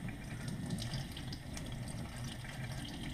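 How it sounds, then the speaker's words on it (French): Tap water runs in a steady, close stream while anchovy fillets are rinsed beneath it, a continuous even rush with no pauses and no voices. "On se met sous le filet d'eau."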